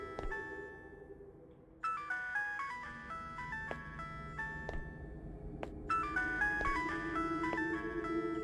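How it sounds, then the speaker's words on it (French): A tinny electronic phone ringtone in a horror game plays a repeating chiming melody, loud and alone, with a short pause before the tune resumes and continues steadily. "Pourquoi je me sens pas rassuré avec cette sonnerie de téléphone à la con là?"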